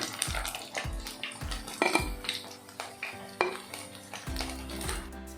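Spicy paneer fry being moved from the pan onto a plate: a series of close metallic scrapes and knocks of a spoon against cookware, irregular and fairly quiet, with no talking.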